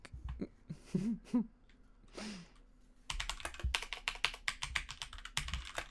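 Rapid clicking of keys on a computer keyboard fills the second half, following a few quiet vocal sounds at the start.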